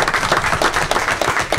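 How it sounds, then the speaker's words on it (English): A small group at a school board budget meeting claps briefly, a close, loud, uneven patter of individual hands rather than a large crowd. "I'd ask you all to join me in a round of applause."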